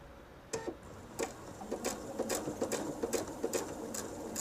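A sewing machine stitches a curve on a jelly roll purse, its needle clacking in uneven short bursts over a steady background hum, close and moderately loud.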